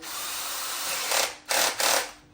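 A battery-operated drill's chuck is tightened on a drill bit before drilling shiny glazed wall tile, giving a steady close whirring followed by three short louder ratcheting bursts, with no talk.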